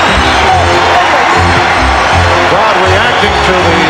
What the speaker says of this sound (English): Crowd reacting to the defensive play of Anthony Mason.